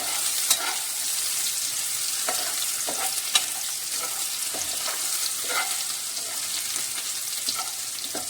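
Garlic fries in a pan for spicy okra, giving a steady crackling sizzle broken by frequent scraping stirs of a spoon, close and continuous with no talking.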